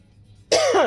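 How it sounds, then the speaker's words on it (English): A single sharp cough bursts out after a moment of near silence, close and loud, with a throaty rasp trailing off, inside a resale shop. "I'm getting a little cough here."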